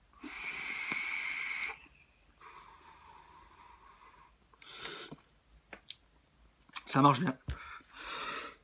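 Person coughing and wheezing after vaping from an overfilled dripper on a Smoant Rabox mini 120W mod, a harsh breathy exhale followed by a few short coughs, with brief speech mixed in.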